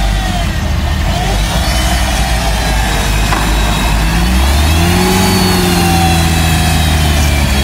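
A turbocharged Lada Niva revs hard while stuck in a muddy puddle, its loud engine surging and straining continuously with rising and falling pitch and no speech.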